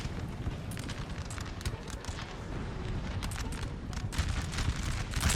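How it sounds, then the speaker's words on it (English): Artillery cannons firing cannonballs in the Napoleonic battle game Napoleon Total War: repeated booming shots over a dense, constant roar of battle noise, with no clear gaps between bursts. "he's firing cannonballs anyway"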